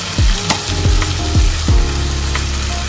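Traditional Kerala white mango pickle stirred in a pan, with a handful of distinct spoon strokes over a low sizzle, each scrape close and clear, with no voices.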